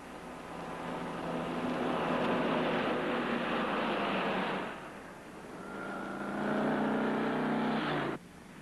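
A getaway truck drives along a road in a 1958 crime drama, its engine a loud, steady roar that dips briefly and then swells again before cutting off abruptly.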